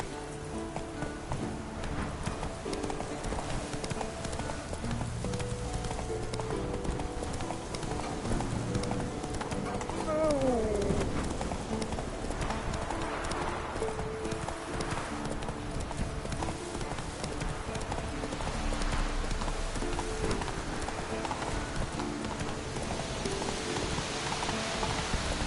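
A horse gallops in The Witcher 3 with steady, continuous clip-clop hoofbeats through the whole stretch, over rain and game ambience, while a person talks at times.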